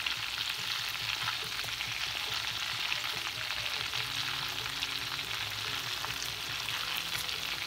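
Potato-chip crusted Pacific cod frying in a pan, giving a steady dense sizzle and crackle that stays loud and even throughout with no voices.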